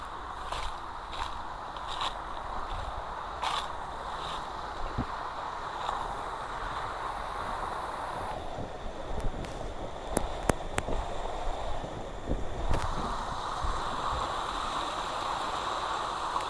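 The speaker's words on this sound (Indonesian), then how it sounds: "Suara gemericik air, angin yang begitu sejuk ya" Gently babbling water runs steadily at a moderate distance, a soft continuous wash with faint scrapes and clicks, near an old abandoned hotel.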